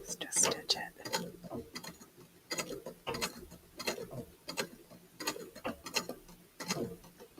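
A sewing machine stitches an art piece in quick, uneven bursts of mechanical clatter and ticking, fairly quiet and close, with some talk in between.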